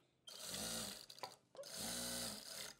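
A sewing machine stitching lace onto fabric in two quick, whirring runs with a short pause between them, close and clear with no voices.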